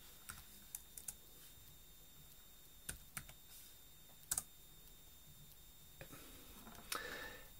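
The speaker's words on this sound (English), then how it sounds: "Okay, so we'll type in here" Sparse keyboard typing: a handful of isolated key clicks spread out irregularly, quiet and close, with a faint steady hum underneath.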